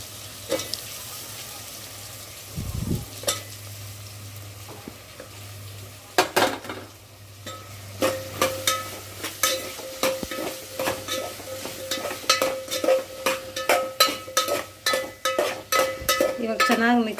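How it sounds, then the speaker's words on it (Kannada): Potatoes go into a pan of cooked tomatoes for a potato-tomato sambar, followed by a low sizzle and repeated metallic clinks and scrapes of a spoon stirring against the pan, growing busier and more rhythmic toward the end. "ನಾನಿವಾಗ ಆಲೂಗೆಡ್ಡೆ ಹಾಕ್ತಿದ್ದೀನಿ"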